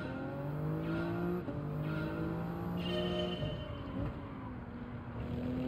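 A Toyota Supra race car in GTA Online runs a time trial on the Seaside Dragon Tail track, its engine note climbing and dropping through gear shifts with faint tire noise and no talking.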